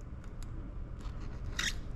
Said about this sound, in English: let's go ahead and trim out this rubber a little bit here